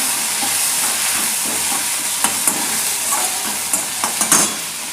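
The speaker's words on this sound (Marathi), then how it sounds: "आता यामध्ये मी टोमॅटो टाकणार आहे।" Tomatoes hit onions frying in a pan for chana masala, giving a loud continuous sizzle and hiss with some stirring scrapes and small clinks near the end.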